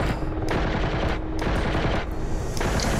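Mi-24 helicopter gun firing in the DCS combat flight game: long continuous bursts of rapid automatic fire in repeated loud strings, separated by brief gaps, with no speech over the shooting.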